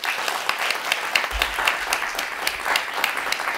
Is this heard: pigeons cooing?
no